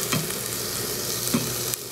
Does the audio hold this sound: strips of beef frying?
yes